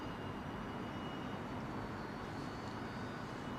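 An Emirates Airbus A380 airliner going around at Heathrow Airport gives off a steady, distant broadband jet roar that stays even in level throughout, with no voices present.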